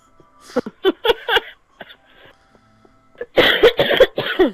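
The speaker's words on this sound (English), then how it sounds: "Makes me cough." Several sharp coughs come close to the mic in short bursts, a pair early on and a louder cluster of rapid coughs toward the end, separated by quiet gaps and a few faint sounds.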